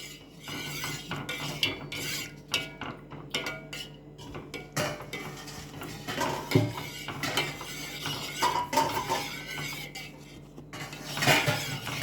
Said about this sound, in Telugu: ఇలా బాగా కలుపుకుంటూ బాయిల్ చేయాలి.